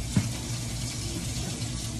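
Water runs steadily into a kitchen sink as turkey necks are rinsed, a continuous close hiss with a brief louder splash near the start and no talking.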